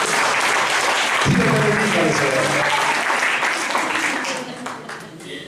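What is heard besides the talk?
congregation applause for the sisters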